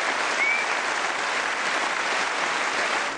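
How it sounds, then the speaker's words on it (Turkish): Concert audience applauding a pianist, a dense, sustained wash of clapping from a large crowd, loud and even from start to finish. "Dinleyiciler uzun süre sanatçıyı alkışladı."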